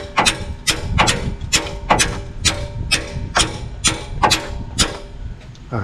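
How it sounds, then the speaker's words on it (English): Channel lock pliers strike sharply at a part about ten times in a fairly steady rhythm, each blow a crisp metallic knock close by. "I think I can hammer that on."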